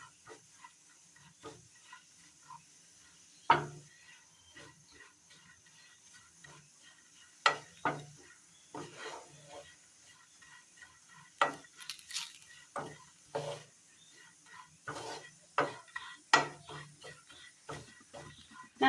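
A spoon stirs chili, coriander and turmeric powders roasting in a pan, producing sparse scraping clicks and light taps at an irregular pace, close and fairly quiet over a soft sizzle.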